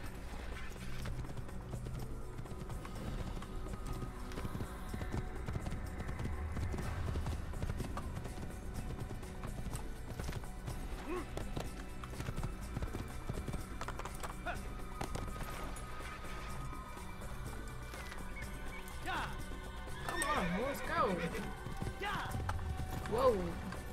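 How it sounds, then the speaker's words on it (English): A horse gallops with steady clip-clopping hooves in the Assassin's Creed video game, with occasional neighs and game effects under continuous talking from a player. "We'll take the white horse."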